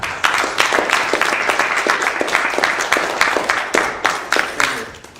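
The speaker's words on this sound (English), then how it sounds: "I would like to give a round of applause for Tibi Kraila." Audience applause at a Toastmasters meeting after a speech on pets, a sustained, even patter of many hands clapping close by, holding steady for several seconds.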